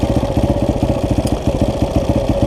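A dirt bike engine idles nearby with a loud, rapid, even chugging pulse that holds steady throughout, without any voices.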